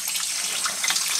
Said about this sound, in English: Now I'm going to fill it up, and I'm going to rinse them.